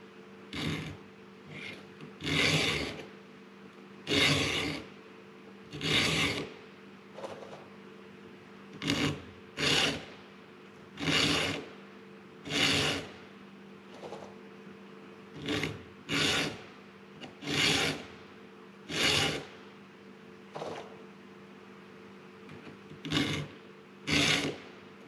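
A hand file rasps across a chainsaw chain in repeated strokes, roughly twenty scraping passes in a steady rhythm with brief pauses, close and moderately loud over a faint low hum.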